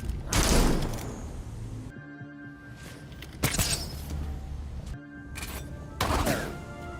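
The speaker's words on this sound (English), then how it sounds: "Just look at the heavy ranged attacks." Heavy ranged attacks in the Gotham Knights video game land as three loud, separate bursts, each a sharp crack with a thudding impact and a brief scatter of debris, spaced a couple of seconds apart over a steady low game rumble.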